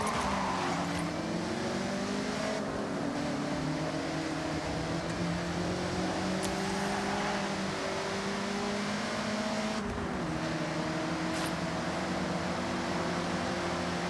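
Several car engines in a convoy in the video game Forza Horizon drone together at a steady pitch, rising and falling slightly as the vehicles cruise, a continuous moderate engine hum.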